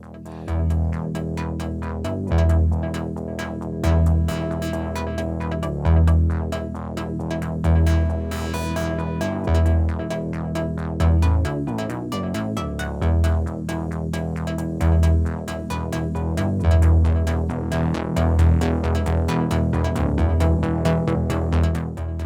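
Layered modular synthesizer voices with filters sweeping open and closed via fader-controlled cutoff and envelope amounts, pulsing rhythmically and brightening and darkening over a steady droning bass, loud and continuous without talk.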